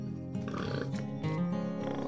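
Pigs in a farm pen, hungry and waiting for breakfast, grunt and squeal nearby in a steady, overlapping stream of tonal calls lasting a couple of seconds.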